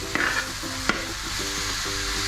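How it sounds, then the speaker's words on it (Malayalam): Chicken is stirred through masala in a frying pan for a Kerala-style kurma, a loud continuous sizzle broken by a couple of sharp scraping strokes, with a faint steady tonal hum underneath. "നന്നായിട്ട് ഇളക്കി കൊടുക്കുക."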